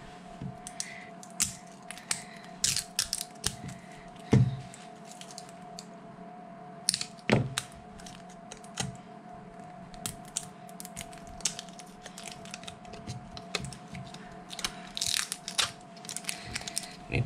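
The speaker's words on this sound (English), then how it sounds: "What you need to do is actually take the cells apart. So I will be cutting them" A sharp tool cutting open the cells of a BionX 48V 6.6Ah e-bike battery pack, with repeated close crunching, snipping and cracking sounds in irregular bursts over a steady low hum.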